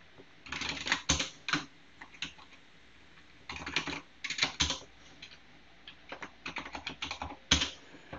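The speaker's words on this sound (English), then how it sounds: "Maybe I should type something." Typing on a computer keyboard, close and quiet, in several bursts of quick key clicks separated by short pauses.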